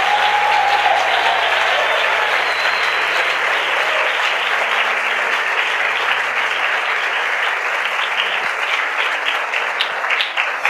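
A church congregation applauds the Lord with dense, sustained clapping that stays loud and even for about ten seconds, slowly thinning toward the end.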